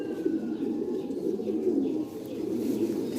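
Rare Sialkoti pigeons with white necks keep up a steady, low, continuous cooing close by, with no talk over it.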